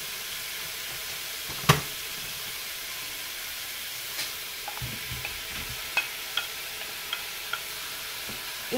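Onions and beef cooking in a Cookeo pot, a faint steady hiss of frying with a sharp clack early on and scattered light taps of a utensil, quiet and close, no voices.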